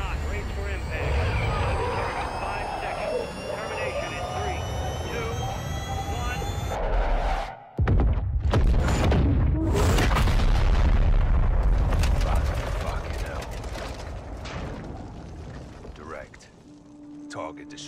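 A guided missile in Call of Duty: Modern Warfare II roars loudly in flight, then after a brief silent gap slams into its target with a heavy, sustained blast and rumble that slowly fades, with a voice speaking over it.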